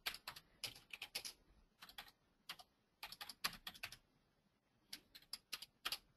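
Typing on a computer keyboard in an office, irregular bursts of sharp, close clicking keystrokes separated by short pauses, quiet and alone with no talk.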